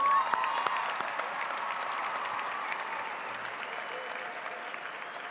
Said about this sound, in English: Ladies and gentlemen, please applaud the class of 2017.